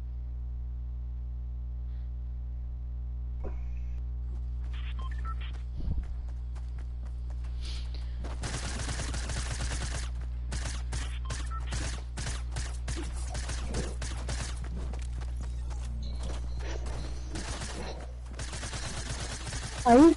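Video game gunfire: bursts of rapid shots in dense clusters, mid-distance, over a steady low hum, with people talking faintly.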